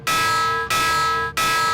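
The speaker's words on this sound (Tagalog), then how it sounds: "patunugin ang mga batingaw o alarm para bigyang babala ang mga residente" Three strikes of a tsunami warning bell ring out in a slow, even rhythm, each bright metallic tone sustaining and decaying slightly before the next.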